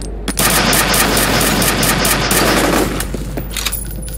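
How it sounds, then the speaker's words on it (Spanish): Rapid automatic gunfire in the shooter game F.E.A.R., a loud, continuous burst of shots lasting several seconds before tapering into a few scattered reports, with no talking. "¡Me están disparando!"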